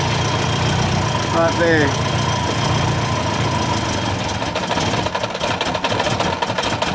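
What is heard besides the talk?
Subaru Forester engine idling with exhaust leak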